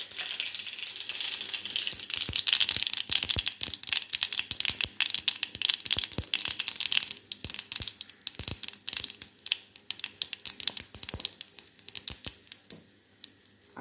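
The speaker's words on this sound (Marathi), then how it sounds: "तेल गरम केलं, त्यात मोहरी घातली" Mustard seeds and asafoetida crackle and pop in hot oil, a dense burst of sharp, close spitting that peaks early and then thins into scattered pops with no voices.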